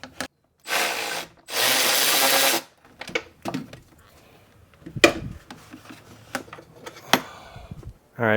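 A power tool backs out the bolts holding the radiator fan on a 1991-2005 Acura NSX, with two loud sustained whirring bursts followed by scattered clanks and knocks of parts, close by.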